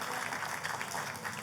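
Church congregation clapping in a worship service, a dense, steady round of applause filling the hall throughout.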